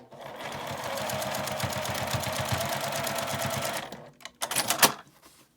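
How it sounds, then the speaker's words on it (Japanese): A sewing machine stitches along the edge of a quilted fabric pen case, a rapid, even mechanical rattle running close and steady for about four seconds, then stopping, followed by a few short clicks and a brief final burst. "端から5ミリぐらいのところを縫います"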